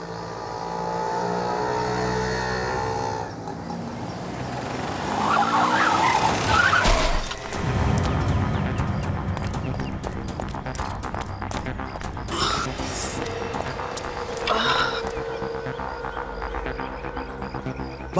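A car skids and brakes hard in a tense crime-drama street scene, with a loud surge of tire and engine noise midway, siren-like tones and later clattering impacts.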